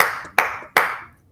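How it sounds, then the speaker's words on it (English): Three sharp hand claps, each decaying quickly, are spaced about 0.4 seconds apart in a steady rhythm, part of a multiplication song. They are close and crisp with no voices. "Let's talk about that clap. It sounds like this."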